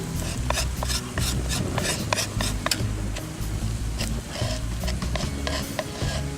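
Powdered curry powder, cumin and coriander being stirred into hot oil in a pan, a continuous scraping and rubbing with repeated light utensil clicks against the pan, close and steady, with no voices.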